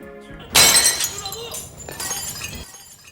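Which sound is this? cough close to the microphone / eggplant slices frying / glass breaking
glass breaking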